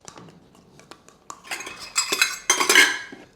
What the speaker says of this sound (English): I'm going to stir up my tahini here.